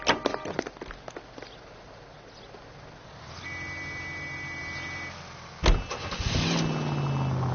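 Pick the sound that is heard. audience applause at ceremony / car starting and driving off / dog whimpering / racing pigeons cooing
car starting and driving off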